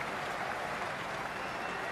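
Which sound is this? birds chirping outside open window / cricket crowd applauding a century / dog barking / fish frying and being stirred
cricket crowd applauding a century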